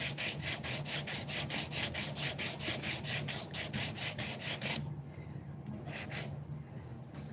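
A wooden mallet has its edges chamfered with quick, rhythmic back-and-forth rasping strokes, close and even. The strokes pause briefly near the end, then a few more follow.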